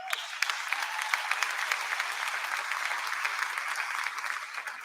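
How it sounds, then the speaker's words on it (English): A university convocation audience applauding a faculty award winner, a dense, even wash of many hands clapping at moderate distance, sustained for several seconds. "Dr. Henney, we applaud you."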